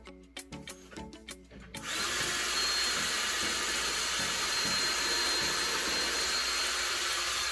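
A few light taps, then a power drill kicks in and bores steadily into wood for a blanket ladder, a loud continuous grinding whir that runs to the end.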